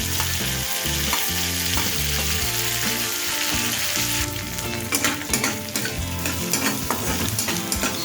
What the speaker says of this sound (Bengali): সামান্য একটু সময় নিয়ে এগুলোকে ভেজে নেব